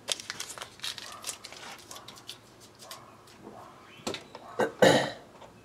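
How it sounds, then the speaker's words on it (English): Tape is peeled off a guitar in short crinkling, tearing bursts, close and irregular, ending in a louder rip, with small throat noises between pulls. "Go ahead and pull this tape back off."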